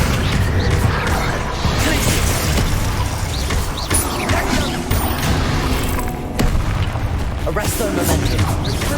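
An Accio summoning spell cast during combat in the video game Hogwarts Legacy, with dense booming and crashing magical effects layered over a continuous, busy battle mix and a voice.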